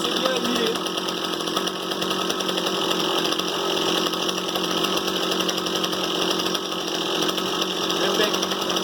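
A rebuilt Stihl MS 170 chainsaw runs and warms up, its engine droning loud and close at a steady, continuous pitch throughout with no pauses.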